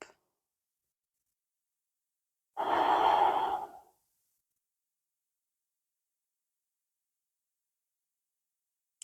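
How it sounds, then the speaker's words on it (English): One slow, audible breath during a grounding vinyasa yoga session, standing alone in near silence for about a second before quiet returns. "Inhale. Exhale. Inhale. Exhale."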